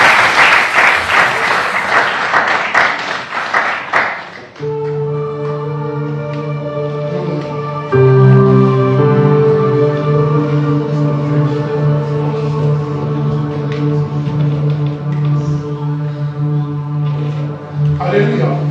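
Loud applause from a church congregation fills the opening seconds of a prophetic healing service, then gives way to sustained, held musical chords that ring on alone for the rest of the stretch.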